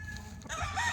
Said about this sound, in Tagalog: ipakita po ninyo ang tapulan nga manok nga mahilo sa iyahang nataran